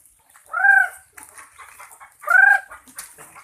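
Large gamecocks clucking nearby, two loud drawn-out calls about two seconds apart with softer scratchy rustling and faint clucks in between.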